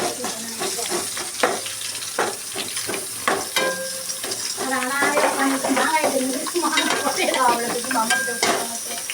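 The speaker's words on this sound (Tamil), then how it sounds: "கடுகு அரிசி வெந்தயம் பூண்டு கடுகு ஜீரகம் வெந்தயம் பூண்டு இதெல்லாம் போட்டு இது பண்ணிட்டு இருக்காங்க வதக்கிட்டு இருக்காங்க" Mustard seeds, rice, fenugreek, garlic and cumin sautéing in a pan: steady loud sizzling with a spoon stirring and scraping against the metal, up close, while people talk.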